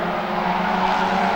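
A banger racing car fitted with a race-prepared engine roars at an oval track, a continuous loud engine drone lasting the whole moment without breaks.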